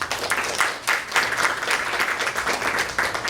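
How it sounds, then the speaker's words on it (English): An audience claps to welcome new students being sworn into a student government Senate, a steady wash of many hands filling the room at moderate loudness. "Can everyone please welcome me in welcoming these new students? Please give a round of applause."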